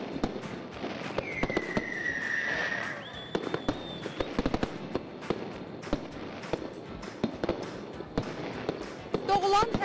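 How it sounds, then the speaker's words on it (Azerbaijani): A large fireworks display at a concert celebration in a national park near a big clock, with repeated sharp bangs, crackles and rising whistles bursting out over a steady background of crowd noise. "atəşfəşanlıq keçirilib."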